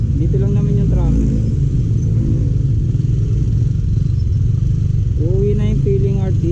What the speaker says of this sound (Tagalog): Dito lang naman yung traffic.